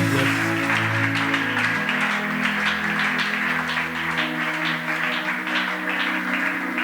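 A church congregation cheers and applauds God, with dense, sustained clapping and crowd voices blending together over a continuous backdrop of music.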